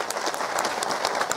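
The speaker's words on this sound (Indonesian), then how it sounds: "tepuk tangan untuk orang Cidamar" Brief burst of audience applause for the people of Cidamar at a live comedy or entertainment show, steady dense clapping at moderate volume with no voices.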